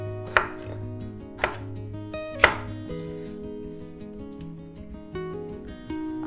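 A knife chops capsicum on a cutting board in a few sharp, separate strokes spaced about a second apart, close and clear, with no talk.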